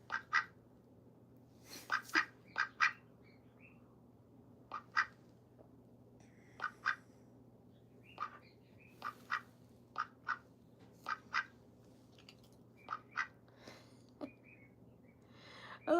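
Pet duck named Olivia Gray quacking in short, separate bursts spread across a quiet indoor room, some single and some in quick pairs, close and fairly loud against a low steady hum.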